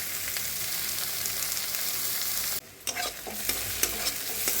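Onions fry in a pan with a dense sizzle, then after a brief pause come a few scraping stirs against the pan as the sizzling carries on. No one speaks.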